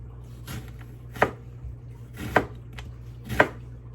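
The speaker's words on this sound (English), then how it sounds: "I'm just going to slice my onion." An onion is sliced with a knife on a cutting board, giving a few distinct, close chopping thuds spaced about a second apart over a low steady hum.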